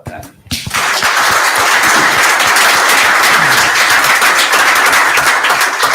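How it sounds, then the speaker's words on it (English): Loud, sustained applause fills a township committee meeting room, steady crowd clapping that starts after a brief quiet moment and continues to the end. "I gotta applaud that."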